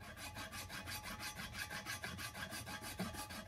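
Rapid, rhythmic file strokes scrape across welded seams joining the halves of a Kawasaki S1 four-cylinder crankcase, a close, gritty rasp repeating steadily without any voices.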